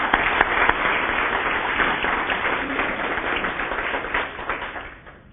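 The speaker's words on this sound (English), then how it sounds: "So, an applause for Florence." An awards-ceremony audience at the Human Relations Awards claps for a nominee, giving a steady, full round of applause that holds evenly before tapering off slightly at the end.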